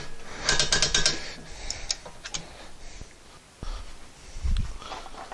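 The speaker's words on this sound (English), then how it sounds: "So, got my torque wrench set to 55 foot-pounds." A torque wrench tightens rear brake bolts on a 2016-or-later Honda Civic, producing a burst of quick ratcheting clicks followed by a few scattered ticks and clunks, close but fairly quiet.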